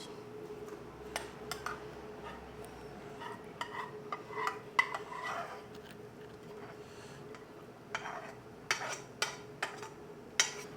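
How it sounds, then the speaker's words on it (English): Cheese sauce being mixed into cooked potato in a dish, heard as soft stirring and scraping with intermittent utensil clicks and taps against a steady low hum. The sound is close and quiet, with no talking. "So we just want to evenly mix our cheese sauce into the potato."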